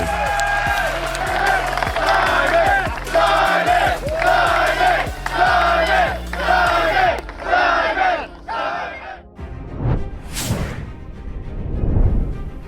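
A disc golf gallery roars after a clutch putt, a loud pulsing cheer with rhythmic shouts lasting several seconds, then fading into scattered whoops and a few sharp swishes.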